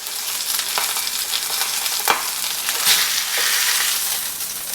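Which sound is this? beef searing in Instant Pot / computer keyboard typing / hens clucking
beef searing in Instant Pot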